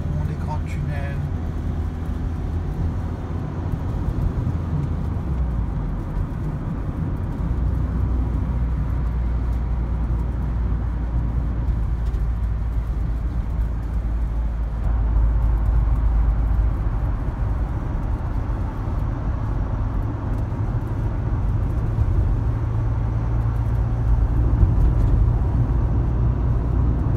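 Steady low road rumble and engine drone inside a moving car on a large bridge and tunnel route near Saint-Denis, Réunion, continuous throughout with slight swells, no talk.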